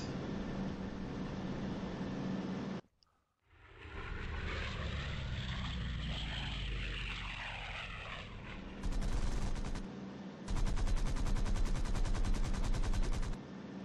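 Guns of a P-47 Thunderbolt firing at an FW 190 in the flight game IL-2 1946, engine roar broken by a brief dropout, then loud sustained bursts of rapid gunfire.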